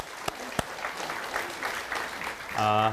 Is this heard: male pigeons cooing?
no